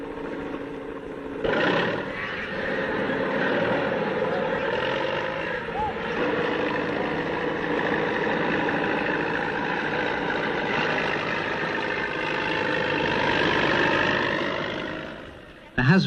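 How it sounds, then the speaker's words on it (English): A tractor engine drones as it drives through rice fields in 1970s China, a loud, rough and steady rumble that holds for most of the stretch before fading near the end. "The husband drives a tractor in the rice fields."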